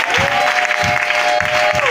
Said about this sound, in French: Est-ce que tu peux l'acclamer puissamment ce matin?